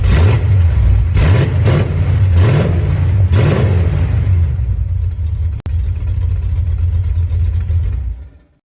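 A Ford Mustang II King Cobra engine revs loud and close, with repeated throttle swells over a rumbling low idle, then holds a steady growl. It cuts out briefly and ends abruptly, with no talking.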